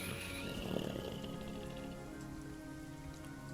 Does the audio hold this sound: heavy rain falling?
yes